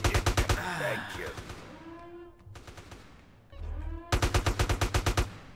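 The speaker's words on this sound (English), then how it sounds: "I'm getting shot" Rapid machine-gun bursts in Grand Theft Auto: San Andreas hit the player, loud clusters of shots at the start and end with a quieter gap of game noise between them.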